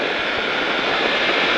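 Steady, loud broadband engine roar from a motorcycle leaning through a corner on a race track, droning continuously with no pauses and no voices.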